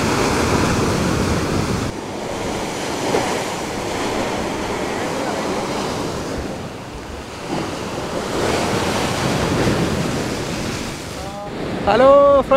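Sea waves at Kettungal beach in Parapanangadi roll in as a steady, loud surf roar with gusting wind buffeting the microphone, a few swells rising and falling, and a brief whistling tone near the end.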